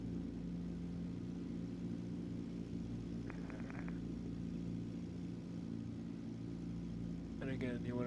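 A light aircraft's engine holds a steady low drone during a run-up in a flight simulator game, a continuous mid-level hum with brief radio chatter partway through and a voice near the end.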